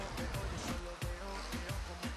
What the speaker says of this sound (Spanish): acá llegamos a la cascada. Un lugar hermoso.